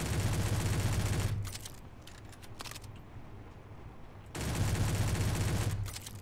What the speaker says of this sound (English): I think I like the pistol. This rapid fire pistol.